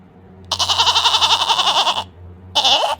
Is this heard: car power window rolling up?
no